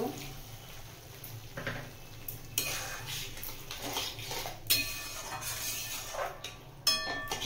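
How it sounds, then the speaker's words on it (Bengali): Chilli paneer being stirred and mixed in a pan with cornflour water just added, giving scraping, clinking spoon-on-pan sounds in an irregular rhythm, close and moderately loud, with no talking. "ভালো করে মিশিয়ে নেব।"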